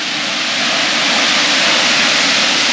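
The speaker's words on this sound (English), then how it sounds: "But it's a nice little waterfall." A small waterfall on a very wet, slippery walking route rushes in a steady, loud broadband roar that holds constant throughout, close by and with no voices over it.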